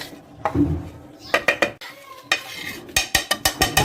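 Gram flour (besan) being mixed with ground spices in a bowl for Lahori pakora kadhi, heard as a run of sharp utensil scrapes and taps that speed up toward the end, close and moderately loud with no talking.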